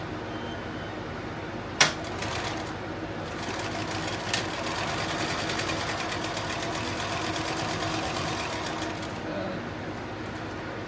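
A sewing machine stitches heavy plate carrier material, a steady close motor hum with rapid needle clatter, broken by a sharp knock early on and a lighter bump later.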